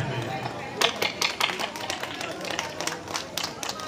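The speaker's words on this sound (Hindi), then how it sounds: "आप सभी का आशीर्वाद तालियों के रूप में" An audience claps at a Ramlila badge-honour ceremony, scattered hand claps rising out of a noisy hall and continuing unevenly throughout.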